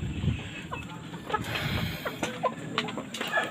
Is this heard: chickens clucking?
yes